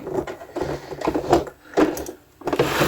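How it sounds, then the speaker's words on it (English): A sewing machine stitches over pins left in the fabric, its needle running in short uneven bursts with brief pauses between runs, fairly close and alone. "I still managed to sew, and my needle didn't break or bend, so I managed to sew over my pins."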